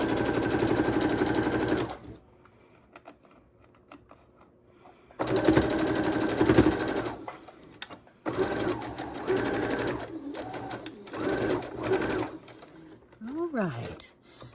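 Sewing machine stitching rows of 13.5 by 10.5 inch quilt blocks together, running in several loud bursts separated by pauses, with faint handling sounds between runs.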